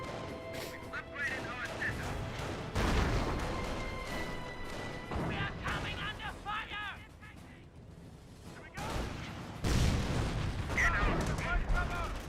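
Explosions tear through tank traps on a Company of Heroes 1 battlefield, heavy booms and crashes mixed with gunfire and a whistling shell, repeating across a dense wartime game mix with faint voices.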